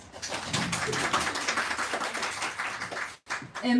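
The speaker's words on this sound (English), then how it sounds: "round of applause for Rebecca, please" Audience applause at a talk on myths and folklore, a dense steady patter of many hands lasting a few seconds before briefly dropping out and resuming.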